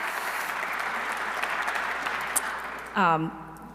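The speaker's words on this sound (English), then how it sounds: "let's go ahead and clap for that" Audience clapping during a mayor's State of the City address, a steady wash of many hands at moderate level, cut off near the end as a voice briefly speaks.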